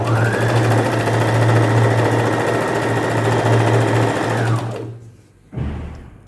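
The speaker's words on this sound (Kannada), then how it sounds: "ಮಷಿನ್ನ ಸ್ಟಾಪ್ ಮಾಡ್ಕೊಂಬಿಟ್ಟು ಮತ್ತೆ ಹೀಗೆ ಫೋಲ್ಡ್ ಮಾಡಿಕೊಂಡು ಮತ್ತೆ ಸ್ಟಿಚ್ ಹಾಕ್ತೀವಿ" Sewing machine stitching folded cloth, a steady loud mechanical whir running for about five seconds, then stopping, with a brief restart just after.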